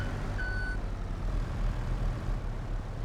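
A vehicle backing up in a farming game gives a short high-pitched reversing beep near the start, over a low rumbling engine drone that continues steadily to the end.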